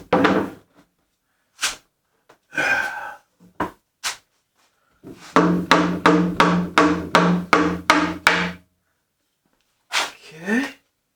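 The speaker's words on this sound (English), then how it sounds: "I may have to hammer this one in a little bit. Dado is a little bit tight." Hammering a tight dado joint while assembling pantry shelves: a rapid series of about nine sharp close blows, with scattered single knocks and thuds before and after.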